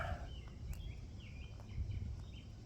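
A bird calls repeatedly in short, bright chirps during a 4 am outdoor stroll, moderately close over a steady low rumble of background noise.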